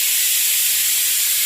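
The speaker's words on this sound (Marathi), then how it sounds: "बाई आता शिटला कुकरला शिट लावले आत्ता" A kitchen pressure cooker vents steam in a loud, steady, close-up hiss that continues without a break, with no clear whistle tone and no talk.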